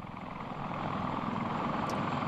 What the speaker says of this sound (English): Helicopters landing.